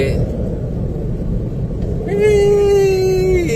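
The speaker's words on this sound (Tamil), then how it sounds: "நம்ம வண்டி முக்குன்னு முக்குது." A car engine labours up the steep hill road to Marudhamalai temple near Coimbatore, a heavy, steady low rumble close by. About halfway through, a sustained tonal note rises above the engine noise.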